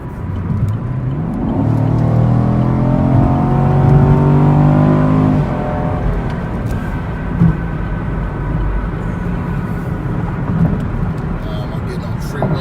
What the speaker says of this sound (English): I'm getting on the freeway. Got to get a little bit aggressive.